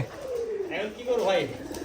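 A pigeon coos several times at close range, its soft, rounded calls rising and falling in a low throaty rhythm, with faint human voices in the background.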